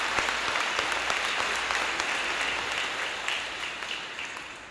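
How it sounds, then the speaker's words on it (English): Graduation audience at a high school ceremony applauds steadily, many hands clapping at once in a broad crowd sound that slowly fades over the last seconds. "Let's give them a round of applause, please."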